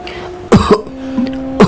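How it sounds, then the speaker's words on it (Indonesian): Coughing in a horror story narration, two sharp, harsh coughs about a second apart, close and fairly loud over a low droning ambient hum with no talking. "Suara batuk itu terdengar lagi"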